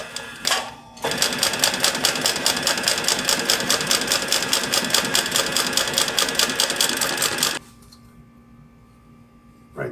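A Pfaff 335 H3 industrial sewing machine fitted with a vibrating binder runs in one sustained, rapid rhythmic burst of stitching for several seconds, then stops. A brief mechanical clatter comes before the run, and a low motor hum remains afterward.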